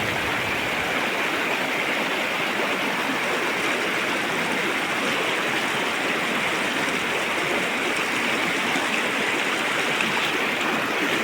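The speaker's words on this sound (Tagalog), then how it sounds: "napakalakas talaga ng current" A strong, steady rush of a fast-flowing river in Cotabato, loud and close, with constant churning and no voices.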